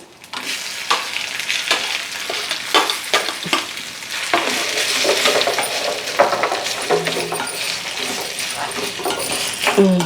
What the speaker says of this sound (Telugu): తాలింపు వేగిపోయిందండి ఇప్పుడు మనం పచ్చడి ఇందులో వేసుకుందాం